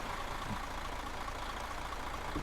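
In a trucking video game, a Mercedes truck's V8 engine idles in a steady, continuous low rumble, alone without talk.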